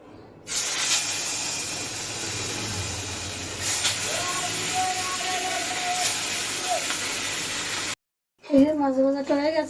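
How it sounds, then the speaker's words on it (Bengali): Fish frying in hot oil in a steel wok, giving a steady loud sizzling hiss for several seconds that stops abruptly, followed by a voice talking. "এবার আমি মাছগুলো ভেজে নিচ্ছি"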